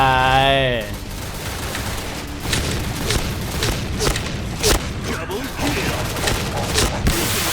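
Rapid gunfire and explosions in the online shooter Point Blank, dense bursts of shots and booming blasts filling the whole stretch, with a voice talking briefly at the start.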